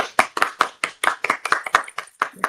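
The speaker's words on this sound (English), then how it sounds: "Let's clap." A small group clapping together in a podcast room, brisk and fairly close, about a dozen distinct claps in an uneven rhythm with no voices over them.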